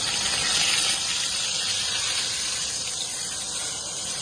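Brisket sizzling in a pan while it browns before braising, a loud, steady, close frying hiss and crackle that continues throughout, with no talk.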